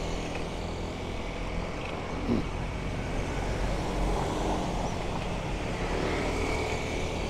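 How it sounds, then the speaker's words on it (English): Morning road traffic on Soi Bukhao in Pattaya, a dense continuous rumble of engines and tyres close by, with a vehicle passing just under a third of the way in and no talking. "there's a bit more traffic this time of day"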